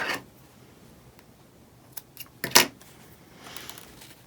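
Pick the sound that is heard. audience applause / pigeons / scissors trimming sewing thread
scissors trimming sewing thread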